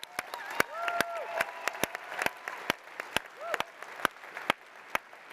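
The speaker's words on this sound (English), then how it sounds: "Round of applause for Gary." Scattered claps from a Labour Party Conference audience applauding Gary, sharp separate hand claps spread unevenly across the moment, with voices and other crowd sound running underneath.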